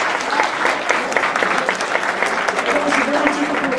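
A competition audience applauds the participants with steady, loud, dense clapping that fills the whole stretch.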